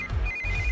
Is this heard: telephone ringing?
yes